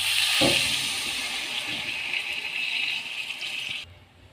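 Water pours into a pot of spiced potato and mutton curry, a steady rushing, hissing gush with a short splash near the start that runs for several seconds before cutting off abruptly, no voices.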